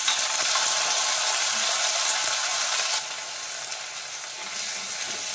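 Chopped shallots with ginger and garlic sauté in a pan for dry shrimp theeyal, giving a bright continuous sizzle that drops a little partway through, with no voices.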